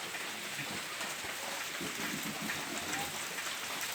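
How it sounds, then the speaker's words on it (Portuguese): Steady rain falls outdoors, a dense continuous hiss of drops on surfaces with no break for the whole stretch and no voices. "Tá chovendo."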